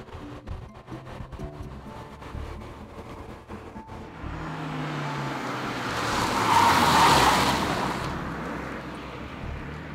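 A Fiat 500 compact car drives along, its engine and road noise steady at first, then a broad rushing swell rises and fades as it passes, with no talking.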